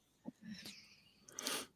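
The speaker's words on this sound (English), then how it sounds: "I make weird noises when I yawn." A yawn with odd vocal noises: a short squeak, a drawn-out strained breath, then a breathy rising exhale, close and alone.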